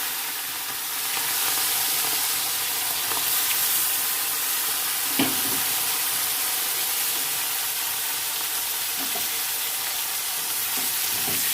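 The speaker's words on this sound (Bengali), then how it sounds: "বন্ধুরা, এবার আমি কড়াই তেল গরম হয়ে গেছে, এবার আমি মাছটা তেলে দিয়ে দিলাম।" Prawns sizzle in hot oil in a wok with a loud, steady hissing crackle, broken by a single sharp knock near the middle.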